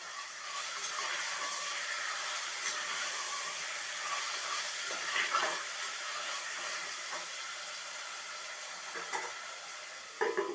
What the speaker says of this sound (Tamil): இப்போ வதங்குது, கொஞ்சம் நல்லா வதங்கினதை தான் அள்ளி எடுக்க போகிறோம்